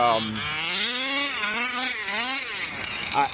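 A methanol-fueled engine fitted with a ported Velsa throttle body revs up and down in a rising and falling whine, loud and close, with someone talking over it.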